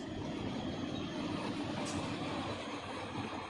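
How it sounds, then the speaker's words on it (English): AI-controlled freight train rolling along in the Run 8 train simulator, a steady, fairly faint low rumble of wheels and cars with no distinct clicks. "It's a AI train anyways."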